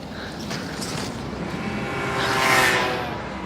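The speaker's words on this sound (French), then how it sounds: "encore ce bruit de scooter" A small scooter engine whines as it approaches, swells to a peak, then fades slightly as it passes, over a steady outdoor background on an overgrown path.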